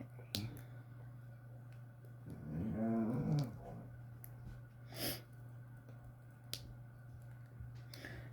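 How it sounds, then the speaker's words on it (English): A dog grumbles low and briefly somewhere in a quiet room on a cold winter day, half-hidden beneath a steady hum, with scattered clicks and a soft snort. "My dog's over there grumbling."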